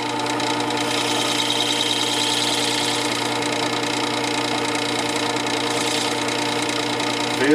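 A Worksharp 3000 sharpener hones a chisel with a steady motor whir and a constant abrasive hum, close and even throughout, with no one talking.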